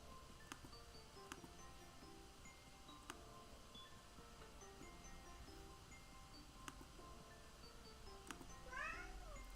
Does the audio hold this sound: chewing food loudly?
no